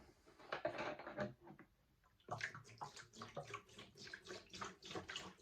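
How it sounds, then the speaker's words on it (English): Water splashes and sloshes as it is poured into the vacuum tank of a Vaportech Athena 8 Plus cleaning machine, in uneven bursts with a short pause partway through, close and fairly quiet. "we need to put a little bit of water in the vacuum tank for the water filtration system"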